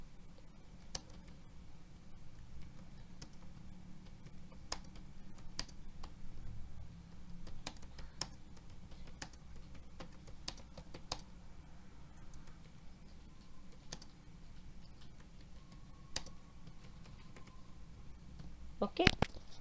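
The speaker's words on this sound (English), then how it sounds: "Now we will type some text and we will edit also." Keys on a computer keyboard are tapped while text is typed, giving scattered, irregular clicks and taps at a fairly quiet level over a low background hum, with a louder cluster of keystrokes near the end.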